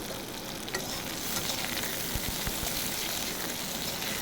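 Drumstick vegetable pieces frying in a pan, giving a steady, dense crackling sizzle with faint soft stirring bumps underneath, close and continuous throughout.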